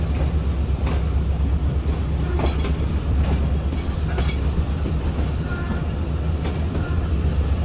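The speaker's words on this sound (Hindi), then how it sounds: "जो सामने आ रही है कराची एक्सप्रेस" Karachi Express rumbles on the adjacent platform track in Pakistan, a loud, continuous low train roar with faint rail clicks and no talking.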